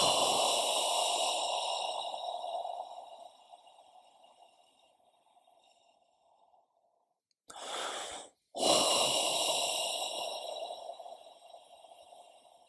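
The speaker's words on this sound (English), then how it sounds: "Take 3 deep breaths." Slow, deep breaths taken during a guided meditation session: a long airy exhale that fades out, a short pause, then a shorter breath followed by another drawn-out breath, all close and alone without talk.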